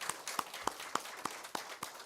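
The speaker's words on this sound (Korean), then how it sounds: "하나님께 우리 박수 한번 합시다." Church congregation clapping in a Korean worship service, a thin, steady rhythm of single claps spaced about a third of a second apart, fairly close and clear with no talk over it.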